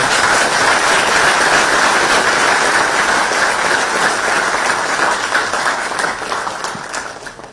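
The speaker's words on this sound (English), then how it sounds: "this needs a big, big round of applause" Loud, sustained applause from a large audience at a political gathering, a thick wash of clapping that stays even for several seconds before gradually fading.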